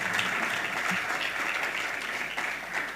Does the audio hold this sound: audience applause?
yes